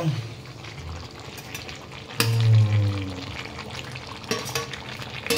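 Potatoes go into a pot of chicken being browned in a home kitchen, with an ongoing sizzle and stirring scrapes and a louder splash and hiss as they are added.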